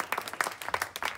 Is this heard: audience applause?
yes